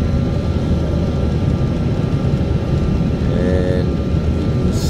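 Steady, loud drone of an airplane cabin during descent and landing over Calgary. Engine and airflow roar fill the whole clip with no talking, and a faint tonal whine rises briefly near the end.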